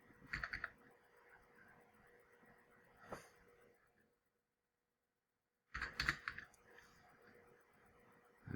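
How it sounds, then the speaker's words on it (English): Quiet clusters of keystrokes on a computer keyboard come in short bursts separated by near silence. "So that's how you type that out."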